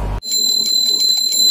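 A bell rings continuously with a bright, sustained high tone that pulses rapidly, starting after a brief low thump and carrying on loudly to the end.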